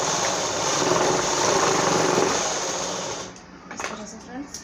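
A sewing machine stitches a designer blouse in a steady, fast whir held for about three seconds, then stops, leaving soft handling noises and a voice speaking nearby.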